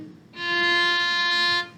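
A bowed string instrument from a beginner strings method sustains a single clear, steady note for about a second and a half, starting after a short pause and ending cleanly, with no talking.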